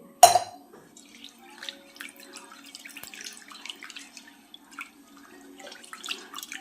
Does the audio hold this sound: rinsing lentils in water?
yes